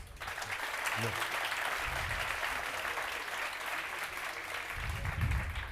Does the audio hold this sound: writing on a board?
no